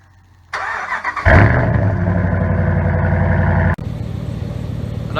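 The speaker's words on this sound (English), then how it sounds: "Do another cold start it up a bit." A Ram 1500 pickup engine cold-starts, cranking and catching, then settles into a loud, deep, rumbling idle through a throaty Flowmaster Outlaw exhaust, with a brief drop before it carries on.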